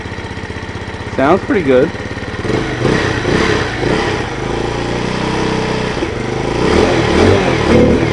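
A 2019 TaoTao Hell Cat Raptor 125cc Grom-clone motorcycle engine runs steadily nearby, revving up with rising and falling pitch sweeps over a constant rumble, while someone talks briefly over it.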